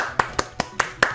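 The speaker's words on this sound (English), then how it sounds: "Thank you for your applause." Five sharp hand claps in a steady, even rhythm, close and fairly loud, with no other sound between them.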